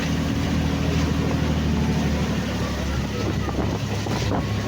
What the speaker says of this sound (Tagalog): Pero malakas ang alon ha.